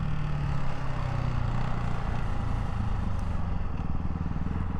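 A 2024 Ducati Hypermotard 698 Mono RVE single-cylinder motorcycle drones steadily up close as its engine note pulses and shifts through downshifts, a continuous loud rumble with no talk.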